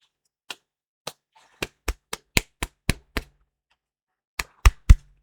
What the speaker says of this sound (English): Bangs fist on table.